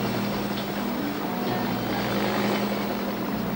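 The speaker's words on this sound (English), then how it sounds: "The old chopper seems to be working quite hard to get us back on there" Rescue helicopter hovering during a winch recovery, its rotor and engine giving a steady, loud, droning hum with no gaps, heard alone.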